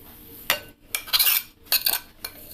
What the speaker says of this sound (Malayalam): ഇനി നമുക്കിതെല്ലാം കൂടി ഒന്ന് മിക്സ് ചെയ്യാം.